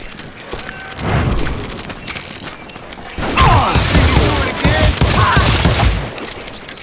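Hired gunmen in Call of Juarez: Gunslinger unleash bursts of gunfire, sharp cracks and rattling volleys clustering in two loud bursts amid metallic clatter and ricochets.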